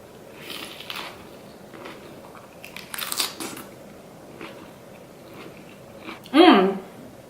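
Crisp bites and chewing of homemade Korean pickled radish, scattered soft crunches through the clip and one louder, closer crunch near the end, with a voice briefly present.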